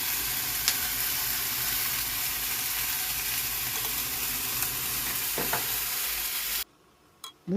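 Sweet potato stems stir-frying in a pan with a little doenjang, a continuous close sizzle broken by a few scraping utensil strokes, then cutting off abruptly near the end.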